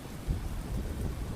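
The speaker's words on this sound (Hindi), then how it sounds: "देखो, बिजली कड़क रही है और ठंडी हवाएं चलने लगी हैं।" A short, faint rumble of thunder rolls over steady heavy rain during a storm.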